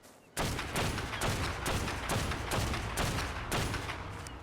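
Rapid gunfire aimed at a Giganotosaurus in the video game Ark Survival Evolved, a dense, loud burst of repeated shots in a steady rhythm that runs continuously for several seconds, with no talk over it.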